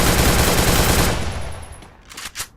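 Rapid automatic gunfire in a video game shootout on an island, a loud continuous burst lasting about a second that fades out, followed by two short faint shots.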